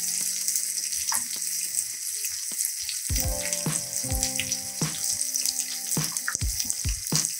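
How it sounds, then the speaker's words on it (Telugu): Fish masala frying in a pan keeps up a loud close sizzle, with clattering utensil knocks and tonal ringing hits scattered throughout and no talking. "ఇది ఫ్రై అవుతుంది"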